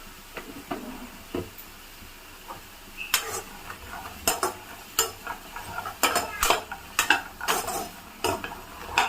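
Green peanuts dry roasting with salt in a pan, with irregular scraping and clinking of a spatula or spoon against the metal and light rattling, growing busier toward the end, close and fairly loud.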